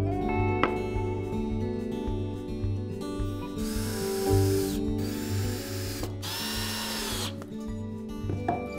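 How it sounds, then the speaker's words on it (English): A power driver sets screws into a plywood workbench in three short whirring bursts over a low background hum, each run ending as the screw seats. "And screw those on."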